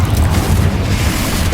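A Confringo spell explodes in the Hogwarts Legacy video game as a loud, dense, booming blast with a heavy low rumble that fills the whole moment.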